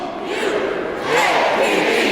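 At a school alumni assembly, a cheer squad and packed crowd yell and cheer together in a loud, continuous group roar that swells partway through.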